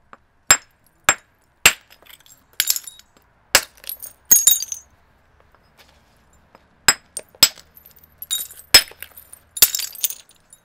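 Flint knapping with a hammerstone other than beach pebbles: a dozen or so sharp, glassy clicks and cracks of stone on flint, irregularly spaced with brief crackly flurries and silent gaps between, close and alone without talk.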